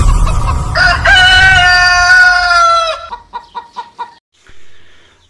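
A Brahma rooster crows one long, loud drawn-out call close by, then breaks into a quick series of four or five clucks, with faint farmyard background.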